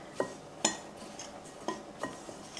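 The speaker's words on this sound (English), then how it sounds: "I'm going to go ahead and add the zucchini and the shredded onions to this." Zucchini and shredded onions tipped into a pan and stirred, a handful of sharp clinks and scrapes of a utensil against the pan spaced irregularly over quiet background.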